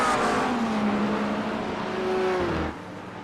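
GT3 race cars, a Porsche, a McLaren and a Corvette, racing at Portimão, their engines droning loudly and steadily with shifting pitch as they pass, under a race commentator talking.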